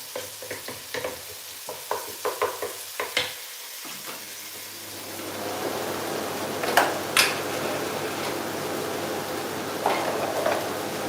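Food for Nigerian jollof rice being stirred in a pot, with a scraping utensil giving irregular clinks and knocks over the first few seconds, then a steady sizzling fry with occasional sharp taps, fairly close and without talk.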